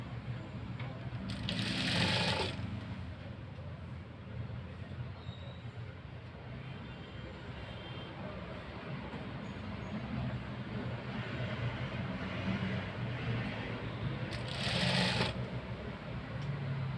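An electric sewing machine stitches a blouse sleeve with a steady, continuous whirring hum that swells briefly twice, with no talk over it.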